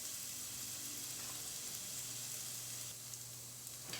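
Fennel sautéing in a pan, a steady close sizzle and hiss that holds throughout, with a faint stir or clink near the end and no voices.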